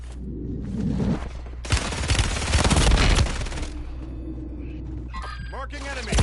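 Automatic gunfire in the battle royale game Warzone, a loud, dense burst of rapid shots lasting about two seconds, preceded and followed by quieter rattling and brief player voices.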